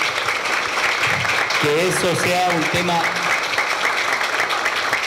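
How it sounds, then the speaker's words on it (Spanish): Steady applause from an audience at a graduation for entrepreneurs, a continuous wash of clapping with someone speaking briefly over it midway. "le diésemos un aplauso a aquellos"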